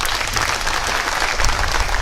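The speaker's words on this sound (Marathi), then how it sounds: "जरा जोरदार टाळ्या वाजवा" A crowd at a political rally applauds loudly for the state chief minister and rural development minister, dense continuous clapping at close range, steady and strong throughout with no break.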